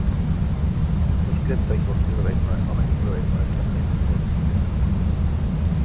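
A steady, loud engine drone from a Jet2 Airbus A321 in a flight simulator at night, a dense low rumble that holds constant throughout, with faint radio chatter audible beneath.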